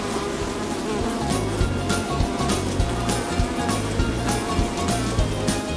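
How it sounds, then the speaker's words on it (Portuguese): Honeybees buzz steadily around a hive, a dense continuous drone with pulsing swells of wingbeats, close and fairly loud with no talk over it. "Abelhas."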